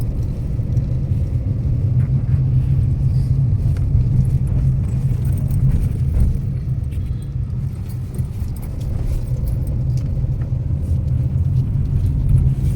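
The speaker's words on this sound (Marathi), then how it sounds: "थोडं थोडं ट्रॅफिक आहे स्लो मुव्हिंग" Low steady rumble of slow-moving traffic on the Mumbai–Goa highway nearby, engines droning with faint rattles and clinks, no voices.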